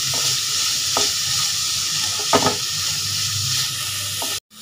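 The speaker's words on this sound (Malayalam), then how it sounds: "ഇതിലേക്ക് ഒരു സവാള അരിഞ്ഞത് ഇതിലേക്ക് ചേർത്ത് കൊടുക്കാം. ഇതൊന്നും ചെറിയ രീതിയിലൊന്ന് മൂത്ത് വരണം." Chopped onion sizzles in hot oil in a pan, a steady close frying hiss with a few soft stirring scrapes, ending in a sudden cut to silence.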